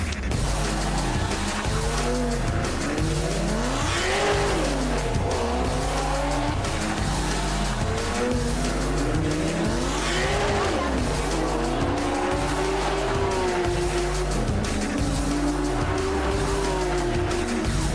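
A car is driven hard around the Long Beach Grand Prix street circuit, its engine droning loudly and continuously while tires squeal through repeated turns, close and steady throughout.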